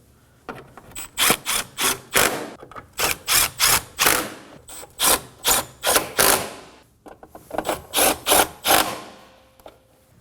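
Ratcheting tool snugging the top bolts on an AC condenser of a 2016-2020 Kia Sorento 2.4L, a series of close, sharp bursts in quick clusters with brief pauses between groups.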